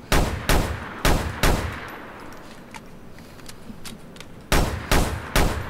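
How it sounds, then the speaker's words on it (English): Six loud gunshots from a modded sniper rifle in GTA IV fire in two rapid bursts of three, each a sharp crack with a ringing tail, separated by a quiet stretch of faint game ambience. "the sniper rifle, I didn't change the skin because I don't use sniper rifle, so I don't really care, but the sound effect is changed"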